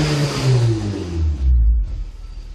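A 2014 Honda Civic Si revved at a standstill, close by: two quick throttle blips that rise and fall in pitch, then a settle back toward idle.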